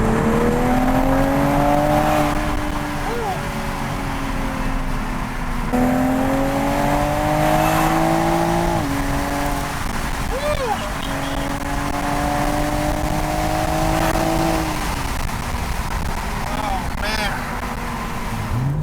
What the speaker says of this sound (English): We're gonna go ride with the Supra a little bit just to get some in cabin.